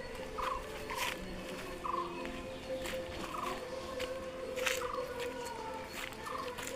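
A peacock calls on a forest trail in the Kolli Hills, giving short repeated cries spaced every second or so. The calls are moderately close and sound over a constant outdoor background hiss.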